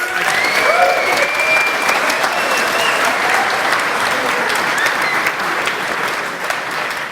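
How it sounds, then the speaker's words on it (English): An audience at the RuneFest 2015 gaming convention gives a sustained round of applause, loud and continuous, with a faint cheer or two rising from the crowd. "Give yourself a massive round of applause"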